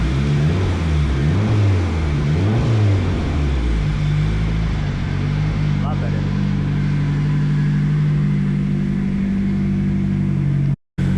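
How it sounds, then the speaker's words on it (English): A Nissan Sentra's SR20 engine idling and revving after spark plug cleaning, with rising and falling revs early on that settle into a steady run. A person speaks briefly near the end. "I finally got the car running"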